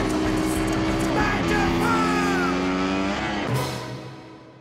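A restored Bison vehicle's engine runs steadily nearby, its tone rising and falling as if briefly revved, then dropping away near the end, with faint voices in the background.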